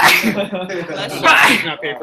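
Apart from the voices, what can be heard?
sneeze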